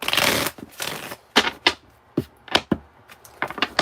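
Bicycle playing cards shuffled for a tarot reading: a long riffle followed by a series of crisp snaps and flicks, close and quiet, with no talking.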